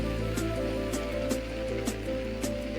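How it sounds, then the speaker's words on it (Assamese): Heavy rain pours outside in a steady broadband wash with occasional louder splashes, heard from indoors at moderate distance with no talking. "পুৰা বৰষুণ দি আছে এতিয়া বাহিৰত"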